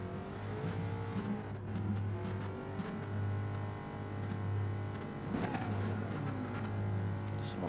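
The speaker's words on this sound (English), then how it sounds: "Someone's car sounding very digital." Race car engines drone steadily in a Gran Turismo-style racing video game at Interlagos, held at a constant idle pitch on the grid, moderately loud with a synthetic, digital tone, and a faint voice underneath.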